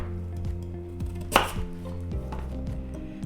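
Knife slicing peeled carrots on a cutting board for Jamaican chicken foot soup, a series of close, crisp chops in an uneven rhythm with one sharper louder cut near the middle.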